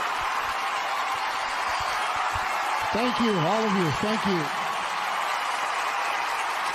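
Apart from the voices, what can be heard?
audience applauding wounded veterans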